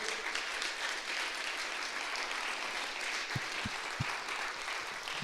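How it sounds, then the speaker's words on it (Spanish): Church congregation applauding, a steady wash of clapping that holds evenly throughout, with a few low thumps near the end. "Vamos, dale bien fuerte ese aplauso a Dios."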